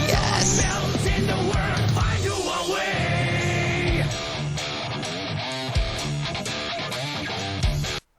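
Heavy rock soundtrack from the fighting game Guilty Gear Strive plays loud and dense, with driving distorted guitars, pounding drums and busy hi-hats throughout, cutting off abruptly at the end.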